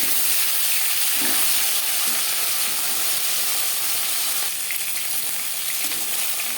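Tilapia pieces fry in oil in a pan for a fish curry, giving a steady, close, even sizzle and hiss throughout with faint stirring noises.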